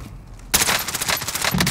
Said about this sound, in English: He got the AK-47U. He's using the AK.